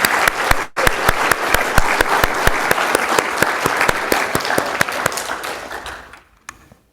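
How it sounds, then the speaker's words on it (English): A conference audience breaks into loud, close applause with regular sharp claps standing out, lasting several seconds before quickly dying away. "if we could give them a round of applause"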